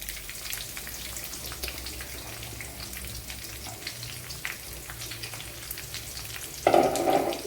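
Chopped large onion drops into a hot pan of chickpea stir-fry and sizzles, a steady soft frying hiss with light stirring, then a louder burst of sizzle near the end.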